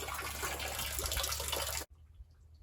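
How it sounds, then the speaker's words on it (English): Meltwater pours off a snowy house roof as a steady rushing, splashing wash that stops abruptly, leaving near silence with a few faint drips. "That background noise you're hearing is all the water melting off the roof of the house here."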